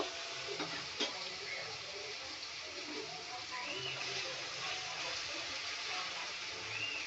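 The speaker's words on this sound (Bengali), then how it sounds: "কড়াই আমি পেঁয়াজ আর কাঁচা লঙ্কা দিয়ে দিয়েছি দিয়ে একটু ভালো করে ভেজে নেব" Onions and green chillies sizzle and crackle steadily in a wok, with occasional stirring scrapes and a voice speaking faintly underneath.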